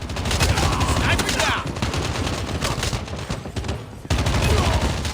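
Dense, rapid gunfire from Call of Duty Mobile, a 2019 free-to-play Android battle royale shooter, as continuous loud bursts of automatic fire run nearly throughout with a brief dip near the end.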